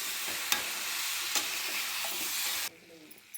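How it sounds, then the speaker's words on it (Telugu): Grated fresh coconut and jaggery fry in a pan with a steady close sizzle while being stirred, with a couple of sharp utensil scrapes; the frying noise drops away abruptly near the end. "చూశారు కదా ఇలా వేయించుకోవాలి ఇంకా బెల్లం కరగలేదు"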